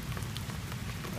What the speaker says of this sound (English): Driving in the rain.